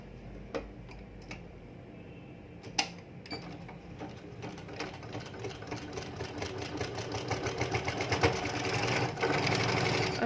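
A sewing machine stitches a baby skirt, starting with scattered ticks and short bursts that build into a fast, continuous rhythmic whirring, fairly faint and close. No one speaks.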